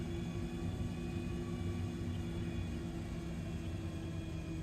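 An aircraft engine idles at low throttle while taxiing, a steady droning hum with a constant low rumble and faint tonal whine, unchanging throughout.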